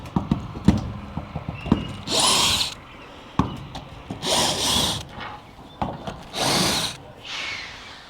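A power drill drives screws into a roof in three separate short whirring runs, each lasting about a second, with sharp knocks and taps from the roofing work in between.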